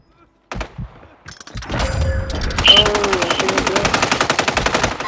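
Loud, rapid automatic gunfire in Call of Duty Warzone on Rebirth Island, a fast rattling burst of shots building after a few scattered thuds, with in-game voices and a player's voice briefly audible.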